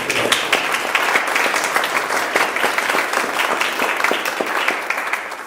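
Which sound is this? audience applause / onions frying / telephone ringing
audience applause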